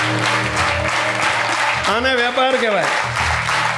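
An audience at a religious assembly claps steadily throughout, a continuous wash of applause under someone speaking into a microphone.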